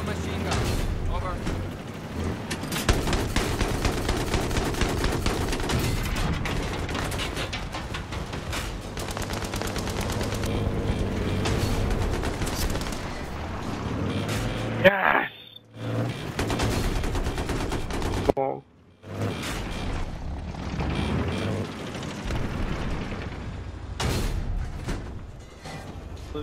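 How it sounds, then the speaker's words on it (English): Hostile machine gun in a military video game, bursts of rapid gunfire and other shots crackling densely through most of the stretch, with brief gaps of near silence and voices talking over the combat. "I spotted a hostile machine gun."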